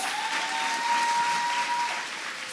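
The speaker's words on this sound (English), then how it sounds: "A round of applause for them," Audience applause at a youth symposium in Manchester, a steady wash of clapping from a sizeable crowd for about two seconds before tapering slightly, with a faint sustained tone running underneath.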